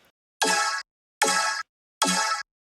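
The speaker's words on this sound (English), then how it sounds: "The second sound is actually a snare being vocoded by a supersaw down here." Three evenly spaced, bright synthesized hits: a snare vocoded by a supersaw synth, each a short buzzy tonal burst with a sharp start and abrupt cutoff, separated by silence.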